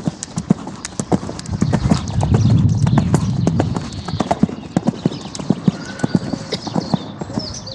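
A horse canters at an easy gallop toward a white jump pole, its hoofbeats close and rhythmic in quick repeated strikes, with snorting breaths mixed in.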